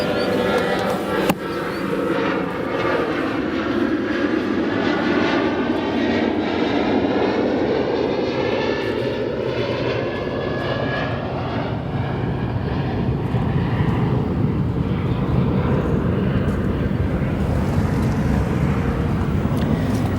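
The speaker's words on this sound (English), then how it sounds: "We have United Airlines Flight 769, a 787-8. That'll be departing to Barcelona." A United Airlines Boeing 787-8 jet departing O'Hare roars loudly and continuously, its engine noise swelling with a sweeping, shifting tone as it passes, nearby and dominant.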